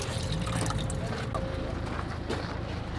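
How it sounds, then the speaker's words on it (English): Water from Iceland being poured, heard as a soft, continuous trickling and splashing of liquid close by over a faint background murmur. "we're gonna pour some of our Iceland water that we keep getting from everywhere"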